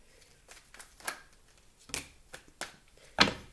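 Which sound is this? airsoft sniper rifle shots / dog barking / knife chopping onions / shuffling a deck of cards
shuffling a deck of cards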